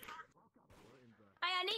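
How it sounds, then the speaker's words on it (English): A single sharp gunshot rings out in the VRChat video game, loud and abrupt near the end, after a stretch of quieter voice chat and game noise. "I heard a gunshot."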